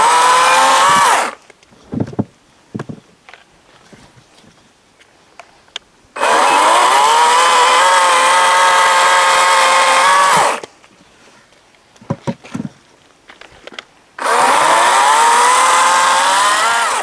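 A Wildbadger 40-volt electric chainsaw cuts wood in three long, loud, steady whining bursts, each separated by quieter stretches of scattered knocks and handling noise.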